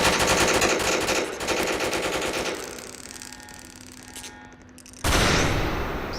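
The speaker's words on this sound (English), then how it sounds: "gunshots rang out in the chamber, in the gallery, as there was a protester" Automatic gunfire rattles in rapid bursts inside a legislative chamber gallery, then eases off before a loud fresh volley erupts again.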